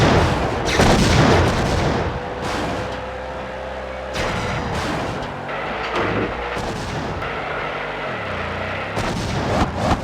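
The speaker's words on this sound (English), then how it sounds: "Shots in all directions there by The Rock. The Rock continues to fire away." The Rock fires repeated loud gunshots and booms in the car-combat video game WWE Crush Hour, blasts and explosions coming in quick bursts over a continuous engine drone.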